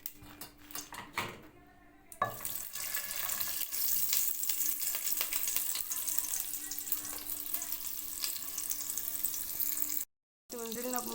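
Oil and a cube of butter sizzling in a pan for cooking rice, a steady close crackling fry after a few clanks of utensils, briefly cut to silence near the end.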